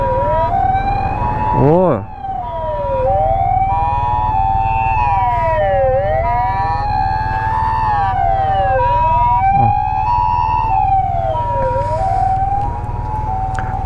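Ambulance siren wailing loud and close in a Japanese street, its tone sweeping up and down in a steady repeating cycle over road and engine rumble, with a man briefly calling out.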